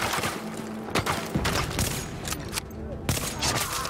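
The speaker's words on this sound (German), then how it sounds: "Wo wird denn jetzt geschossen?" Repeated sharp gunshots and short volleys of gunfire in the video game Tom Clancy's The Division crack out at irregular intervals, loud and fairly close, over a busy background with occasional talk.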